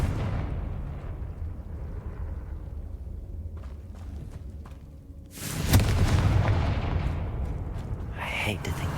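Confringo fire spell in Hogwarts Legacy: a loud fiery blast bursts midway through a rumbling fight, trailed by crackling debris and a further sharp burst near the end, with a voice talking over the game sounds.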